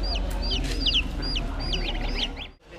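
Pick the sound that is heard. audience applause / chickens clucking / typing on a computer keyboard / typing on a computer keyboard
chickens clucking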